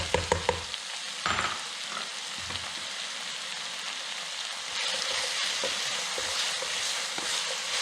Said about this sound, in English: I've got the mince all broken down and it's browning very nicely